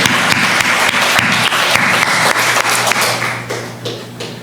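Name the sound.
church congregation applauding and clapping to God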